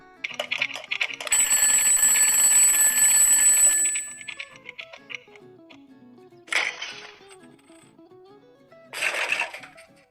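A mechanical alarm clock rings loudly in one long continuous burst for a few seconds, then stops; after it comes a stretch of quiet with brief clattering knocks.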